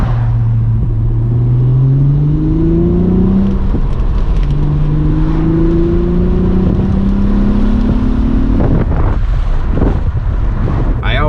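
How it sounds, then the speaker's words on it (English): An Acura TL SH-AWD fitted with Borla Pro XS mufflers, recorded from inside while driving, its exhaust note rising and falling in pitch through several revs and shifts beneath heavy, loud wind rush. "Hope you guys get an idea of how good the exhaust sounds."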